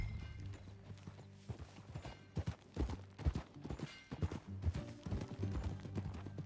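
Horse hooves clip-clopping at a walk in the Red Dead Redemption 2 video game, an uneven run of soft, close thuds with a faint game soundscape behind.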